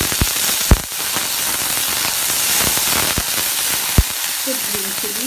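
Peanuts frying in a little hot oil for a salad, giving a loud, steady close sizzle with a few sharp pops and crackles throughout.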